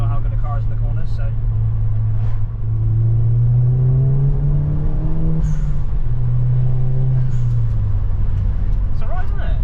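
A car's engine hums and rises steadily while driving through corners, its pitch swelling and easing under a continuous low road rumble, with a person talking over it.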